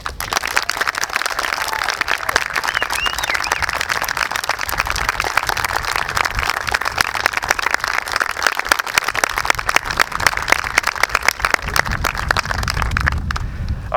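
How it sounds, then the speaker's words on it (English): Sustained applause from an audience at a school band ceremony honoring graduating band students, dense steady clapping at close range that fills the whole stretch without a break. "So please help me and give a round of applause"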